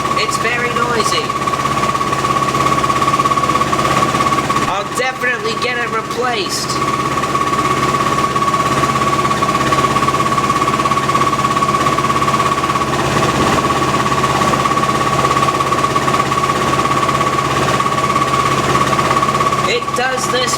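A Fisher & Paykel washing machine spins at 1,000 RPM with a faulty suspension rod, giving a loud, steady mechanical drone and rattling vibration throughout, while a person speaks briefly over it.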